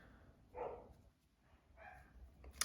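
Dogs bark in the distance, two faint, separate bursts of barking about a second apart over quiet room tone, with no voices.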